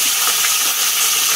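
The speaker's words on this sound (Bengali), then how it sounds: "এবার দিয়ে দিচ্ছি পেঁয়াজ এবং রসুন বাটা" Onion and garlic paste hits hot oil for egg biryani, giving a loud, steady sizzling hiss that fills the moment without pause and with no voices.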